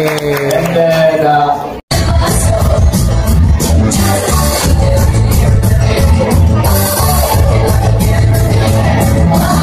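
Guests at Nanay Bel's birthday party cheer loudly, whooping and shouting with scattered clapping in a dense, continuous crowd roar that cuts out briefly and then surges back.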